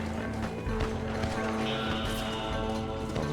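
A horse gallops in the western game Red Dead Redemption, its steady clip-clop hoofbeats running throughout beneath a sustained tonal musical backdrop.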